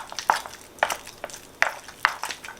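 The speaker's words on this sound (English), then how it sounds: "Now I'll just put in all the rest and just mix it well" Avocado and cream cheese dip being mixed in a bowl, with soft, uneven scraping and stirring strokes that come in four or five brief bursts spread across the stretch.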